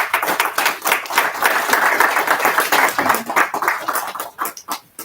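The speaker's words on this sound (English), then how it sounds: "with a standing ovation or a round of applause, please bring to the stage" Lively applause and clapping from an audience at a student orientation program welcoming a speaker to the stage, sharp hand claps rising and falling in bursts before thinning out near the end.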